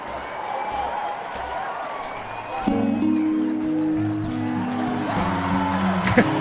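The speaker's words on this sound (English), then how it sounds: "Crowd loves it. They're going nuts." A game crowd in Rock Band 4 roars and cheers in a steady wash with scattered whoops, while bright band chords kick in partway through and carry on over the noise.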